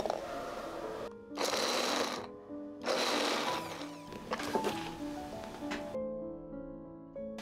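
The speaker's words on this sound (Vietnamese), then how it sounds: "Thêm 4 tép tỏi nữa, xay nhuyễn tất cả." Blender whirring in short bursts as it grinds shallot and garlic cloves, loud pulses separated by brief pauses, then a quieter rattling tail with faint kitchen noise.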